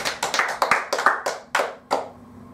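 A few people clapping in an oratory training class, about a dozen sharp, separate claps in an uneven rhythm that thin out and stop, close by and moderately loud with a faint hum underneath.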